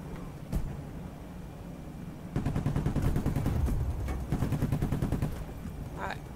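Heavy-recoil gunfire in PayDay The Heist: a single shot, then sustained rapid automatic bursts with several pauses, loud and close, over game background noise.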